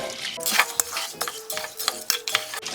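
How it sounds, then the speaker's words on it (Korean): A spoon stirs salt water in a bowl for red bean sticky rice, scraping around with light clinks and swishing liquid in quick irregular strokes, close by. "소금이 소금물이 잘 섞이도록 저어주세요"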